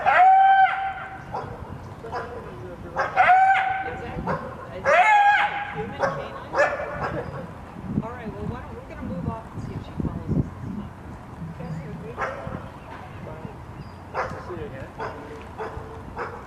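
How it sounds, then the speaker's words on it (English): A mother coyote barks angrily at a dog at the base of a hill, kicking dirt; sharp barks and yips cluster early, then scattered quieter calls over rustling outdoor background noise. "You'll see this mother coyote kicks dirt and barks angrily."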